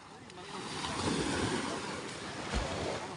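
Sea surf washes in a low, continuous rumble along a Philippine coastline, with wind buffeting the microphone and occasional heavier swells, fairly faint overall.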